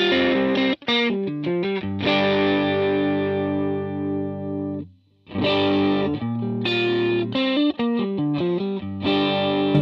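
Distorted electric guitar played through a Line 6 Helix stock cab simulation, alternating sustained chords and choppy palm-muted riffs, with a brief gap near the middle, heard alone without talk.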